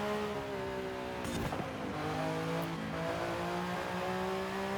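A fast sports car in Forza Horizon 5 holds a steady high engine drone with shifting harmonic pitch, a brief tire scrub in the middle, loud and continuous.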